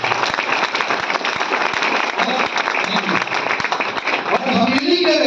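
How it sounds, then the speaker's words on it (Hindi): Loud, sustained applause from a large audience at a talk, dense clapping running steadily throughout with a brief swell of voices and cheering near the end. "एक बार जोरदार ताली होनी चाहिए।"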